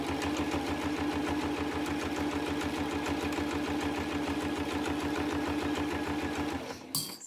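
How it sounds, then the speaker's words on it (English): Sewing machine stitching bias binding onto a fabric mug caddy, a steady rapid mechanical whir and needle clatter held at an even pace, close and clear, stopping near the end. "Just sewing this on."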